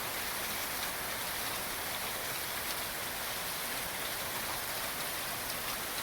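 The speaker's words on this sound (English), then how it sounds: "rain's a little intense right now." Heavy rain pours down in a dense, unbroken hiss, steady and even throughout, with no voices.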